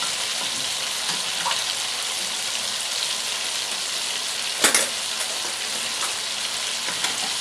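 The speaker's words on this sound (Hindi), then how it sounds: "तो अब गोश्त इसमें डालते हैं और थोड़ी इसकी फिर भुनाई करेंगे" Beef pieces fry with softened tomatoes in a pot for Bannu-style pulao, giving a dense, steady close sizzle. A sharp clatter comes in the middle and a few light stirring knocks follow, with no speech.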